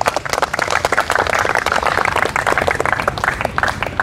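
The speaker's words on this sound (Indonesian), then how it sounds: "Mana tepuk tangannya?" A church congregation claps vigorously during a sermon, many hands producing loud, dense, rhythmic bursts that keep going throughout without speech.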